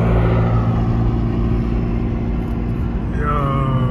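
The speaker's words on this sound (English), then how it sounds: "That's the McLaren, bro." A McLaren sports car's engine rumbles loudly and steadily up close, then revs rising in pitch near the end, with voices partly heard over it.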